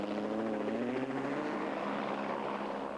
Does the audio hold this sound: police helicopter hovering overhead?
yes